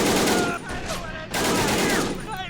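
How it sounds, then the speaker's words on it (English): Rapid volleys of gunfire in a Korean War battle game set at Pork Chop Hill, loud near bursts rolling into one another with brief gaps and shouting voices mixed in. "I think we're actually getting very effective fire there on that position"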